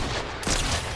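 Single sharp gunshot burst in Fortnite, fired through a bush, loud and close, cutting through steady game background noise.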